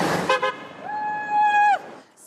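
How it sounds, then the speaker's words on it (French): Car horns toot on a Dublin street during a referendum vote, one sustained horn blast ringing for nearly a second after a couple of shorter toots, with street noise and a voice underneath. "on demande aux gens de klaxonner quand ils votent oui"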